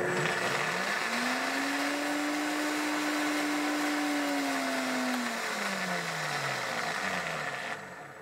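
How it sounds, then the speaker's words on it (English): A kitchen blender grinds cookies into fine powder, spinning up to a loud, steady motor whine that holds for several seconds before winding down and trailing off. "I blended up this into a nice fine powder"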